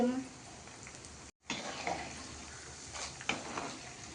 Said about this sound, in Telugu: ఇదిగోండి వేపుకుంటున్నాను. ఎండుమిరపకాయలు, శనగపప్పు, మినపప్పు, ఆవాలు